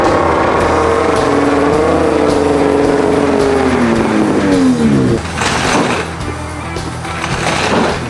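A snowmobile of roughly 450 to 500 pounds revs inside a workshop. The loud, close engine swings its pitch downward over several seconds, then settles into a rougher idle with sharp bursts.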